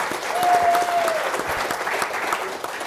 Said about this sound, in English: could everyone join me in a round of applause for Preston